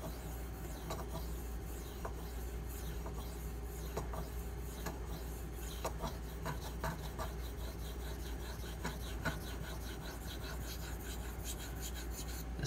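Fine-grit Pride Abrasive stone honing a Spyderco Manix 2 knife: a steady, quiet rasping scrape repeated in short strokes throughout, close and alone with no voices.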